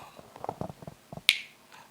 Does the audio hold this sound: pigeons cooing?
no